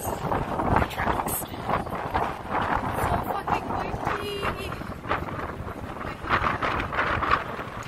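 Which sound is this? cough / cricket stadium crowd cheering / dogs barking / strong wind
strong wind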